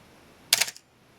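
A Canon AE-1 film camera finishes its self-timer cycle and the shutter fires, one short crisp mechanical clack in an otherwise quiet room.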